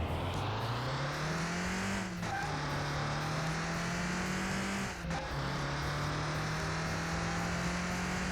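A Ford Escort Mk1 in Car Mechanic Simulator 2021 launches hard with the clutch dumped, its engine droning and rising in pitch through two quick gear changes, loud and continuous.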